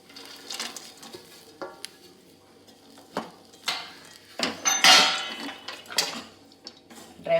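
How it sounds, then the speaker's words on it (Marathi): A spoon stirs a dried fruit mixture for no-sugar ladoo in a pan, giving irregular scraping strokes and sharp metallic clinks against the pan, close and moderately loud, with no talking. "ड्रायफ्रूट आता सगळे मिक्स करून घ्यायचे असे"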